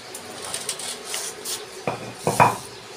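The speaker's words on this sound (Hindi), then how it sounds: "अम्मा जी बढ़िया सुबह से बर्तन धो रहे हैं" Dishes, pots and utensils being washed by hand in a village home in the morning, with soft scraping and rubbing followed by a few louder metallic clinks and clatters near the end.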